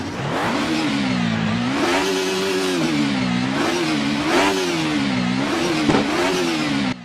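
In Assetto Corsa, an Alfa Romeo 155 TI V6 revs repeatedly, the engine note rising and falling in a steady wavering rhythm, loud and close, with no one talking.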